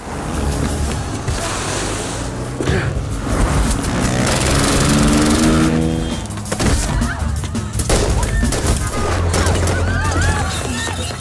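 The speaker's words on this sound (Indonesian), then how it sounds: "Alhasil terjadi aksi baku tembak dan kejar-kejaran di antara mereka." Rapid bursts of gunfire crackle through a dense, loud mix of engine roar and music-like tones during a film shootout and chase, with shots scattered across the whole stretch.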